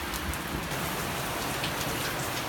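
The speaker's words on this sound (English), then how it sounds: "It's been raining non-stop, man." Steady, dense rain falls without a break during a non-stop downpour at a bus home build, a constant loud hiss of drops on surfaces with no voices.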